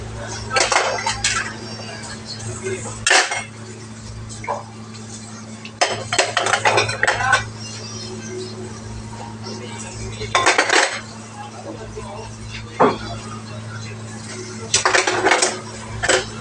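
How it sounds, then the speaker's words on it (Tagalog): Cutlery and dishes clatter and clink in bursts, with steady background hum between the louder clusters of plate and utensil noise. "Daming hugasan."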